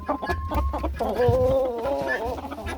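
A Silkie hen clucks close by among a backyard flock, a few short throaty clucks over low rustling and background noise, with a brief higher bird call.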